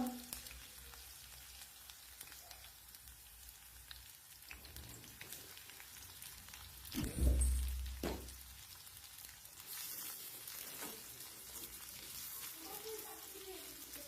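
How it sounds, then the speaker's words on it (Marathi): Onion, green chili and garlic sauté in oil in a pan for an okra recipe, giving a soft, continuous sizzle and crackle that stays fairly faint, with a brief louder clatter of stirring midway. "हिरवी मिरची लसूण थोडा परतल्याच्या नंतर मी कांदा पण टाकून दिलेला आहे आणि कांदा पण छान तेलावर परतून घ्यायचा आहे आपल्याला"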